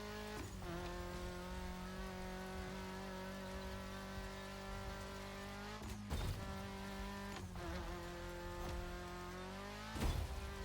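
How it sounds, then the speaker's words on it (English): A car engine revs hard in the racing game The Crew Motorfest, a sustained high-pitched engine whine held at the limiter, broken by brief sharp bursts of rattling or shifting noise, with no voices. "This car is absolutely screaming at me at this point."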